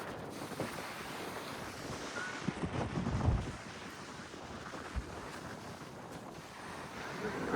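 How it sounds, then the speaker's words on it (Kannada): Strong gusts of wind buffet the microphone in rough, rising and falling rushes, with a faint wash of surf underneath. "ಗಾಳಿ ನೋಡಿ ಯಾವ ರೀತಿ ಇದೆ, ತುಂಬಾ ಗಾಳಿ."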